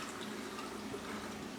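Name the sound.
tap water running through a raw turkey cavity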